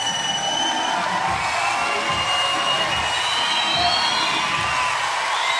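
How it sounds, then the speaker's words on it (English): Crowd cheering at the Glasgow 2014 Commonwealth Games men's 62kg weightlifting, backing a Welsh lifter; a steady, dense roar of shouts and whoops fills the arena throughout. "So as you can hear around, plenty of support for the Welshman"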